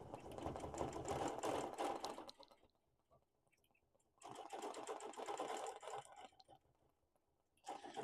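A sewing machine free-motion quilts a wholecloth quilt with a double layer of batting, running in bursts of steady stitching, pausing for a few seconds, then starting up again, close and fairly loud.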